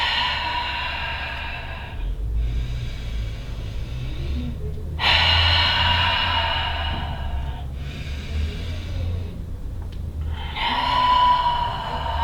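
Deep, slow breathing during a yoga flow: three long breaths alternate with pauses, each inhale and exhale a broad, airy hiss that sounds close and clear, with a low steady hum underneath and no talking.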